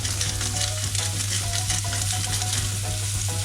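Beef liver fries in a pan with a loud, constant sizzle, dense crackling and spitting close up, over a steady low hum, with no voices.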